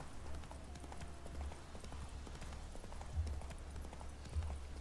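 The horse Roach's hooves clip-clopping in a steady rhythm while traveling in The Witcher 3: Wild Hunt, set against a low rumbling background, with a few heavier hoof thuds standing out.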